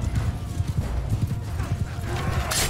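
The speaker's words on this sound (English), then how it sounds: "Come on, horsey." A horse in Mount & Blade 2: Bannerlord gallops with steady, rapid clip-clop hoofbeats close up, then lets out a whinny near the end, with some faint background talk.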